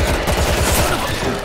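Rapid automatic gunfire in the World War Z video game, a dense continuous burst of shots, loud and close throughout.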